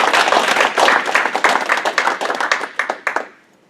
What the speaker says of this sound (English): look forward to his talk with a little round of applause